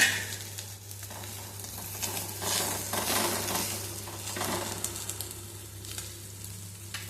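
Anchovies coated in masala frying on a tawa over a medium flame with curry leaves, giving a steady, close, bright sizzle with crackles that swell and ease, alongside a few faint utensil clinks.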